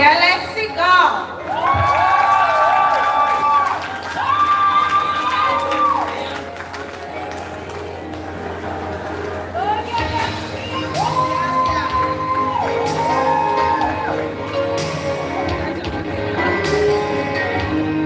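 A crowd at a Maranatha Basic School graduation ceremony cheers and shouts, with children's voices whooping and scattered applause, loud and sustained throughout with bursts of louder yelling.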